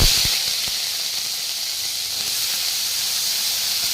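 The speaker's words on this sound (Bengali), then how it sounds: "এখন করছি হচ্ছে এই যে থোড় দিয়ে কুমড়ো দিয়ে ভাজা, সর্ষে আর শুকনো লঙ্কা ফোড়ন দিয়েছি" Banana stem and pumpkin fry in a pan with mustard seeds and dry chilli, giving a continuous loud hissing sizzle, close and steady, with a couple of faint knocks at the start.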